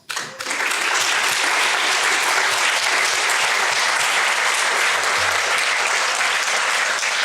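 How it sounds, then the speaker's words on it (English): At the Florence State of the Town 2019 event, an audience applauds the town council members with dense, steady clapping that starts abruptly and continues loud throughout. "we'll give them a round of applause"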